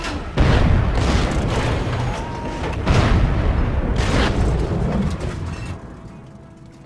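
French and Italian tank autoloader cannons in a video game fire three loud booming rounds in close succession, each a sharp blast followed by a rumbling decay that fades into quiet at the end.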